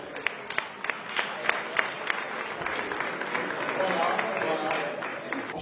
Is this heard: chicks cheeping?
no